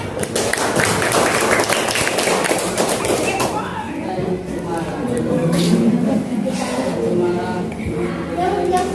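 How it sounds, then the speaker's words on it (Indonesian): Students in a Year 7 classroom clap together, a dense burst of applause filling the first few seconds before fading into classroom chatter and voices. "Tepuk tangannya."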